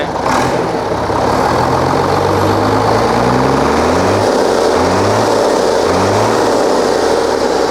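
Hino P11C 320 hp truck engine running loud and steady, its low rumble rising and falling as it is revved in a workshop, alone without talk.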